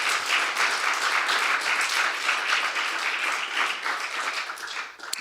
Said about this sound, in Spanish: Denle un aplauso fuerte al Dios Todopoderoso.